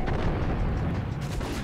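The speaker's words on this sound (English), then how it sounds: "gunshots will fix that" Dense, continuous booming gunfire in the video game Max Payne, heavy low rumble, sustained and loud without pause, like rapid shots layered in a game battle.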